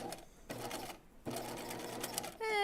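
A domestic sewing machine stitches a belt loop on jeans in fast whirring bursts, stopping and starting as it reinforces back and forth, ending with a brief tonal squeak close to the microphone.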